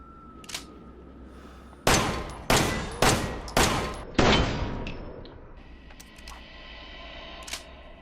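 Handgun shots in the video game Resident Evil 7, fired with enhanced ammo: five loud, sharp reports in quick succession, each with a short decaying tail, followed by faint clicks and mechanical handling sounds.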